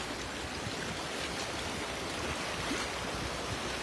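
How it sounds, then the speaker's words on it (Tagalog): A strong river current rushes at a fishing spot, making a steady, dense hiss of flowing water that stays constant and fairly close throughout, with no other sounds standing out. "Malakas yung agos, no?"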